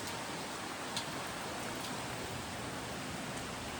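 Heavy rain pours down in a steady, even hiss, dense and unbroken throughout, with no voices.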